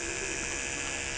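Electric clippers buzz steadily and close up while trimming the ear of a walking horse, a dense even mechanical drone with no pauses across the short stretch.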